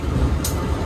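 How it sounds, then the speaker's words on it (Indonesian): The Sri Tanjung train to Banyuwangi pulls out of Surabaya Kota station with a brief low rumble of rolling stock and a short hiss midway. "Kereta api Sri Tanjung arah Banyuwangi diberangkatkan dari stasiun Surabaya Kota."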